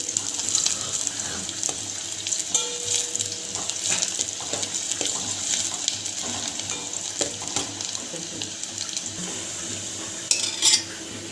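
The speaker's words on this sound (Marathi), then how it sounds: "आता कांदा आपला तेलावर छान परतून घेतला आहे" Chopped onion sautés in oil with Kashmiri red chilli powder and turmeric in a pot for mutton biryani, making a loud continuous sizzle with stirring scrapes and a brief clatter near the end.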